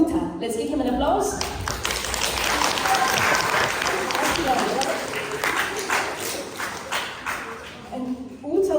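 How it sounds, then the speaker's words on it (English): Clapping from a children's audience at a storytelling and music performance, lively and fairly close, swelling through the middle and tapering at the end, with a voice talking over it near the start and finish. "Let's give him an applause."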